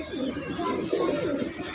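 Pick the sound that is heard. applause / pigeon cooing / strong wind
pigeon cooing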